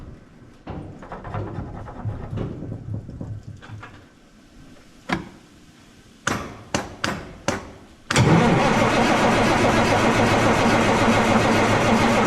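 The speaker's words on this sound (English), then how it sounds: "we are quickly losing whatever cranking capacity those batteries had in them" A 1984 Mack R model truck with an E6-350 diesel engine cranks on weak batteries: several labored grinding starter bursts broken by pauses, then a sharp burst into a loud, steady roar close up, with no talking.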